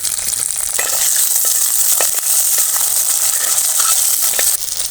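Onion, garlic and lentils frying in oil in a pan, a dense loud sizzle with scattered crackles and stirring scrapes throughout, close by, with no talking.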